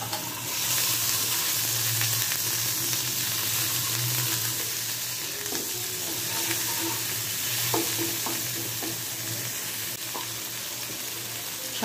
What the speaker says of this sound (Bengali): একটু হালকা ব্রাউন করে ভেজে নেব